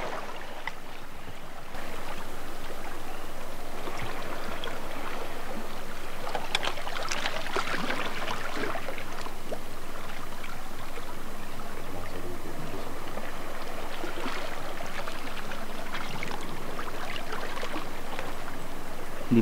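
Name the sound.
gentle sea waves at the beach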